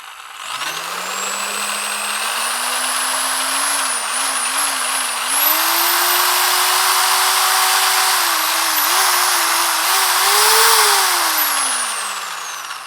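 A Bosch GSB 10 RE corded impact drill runs at no load, starting with a low whirring hum, then rising to a high-pitched whine and holding there before winding down at the end.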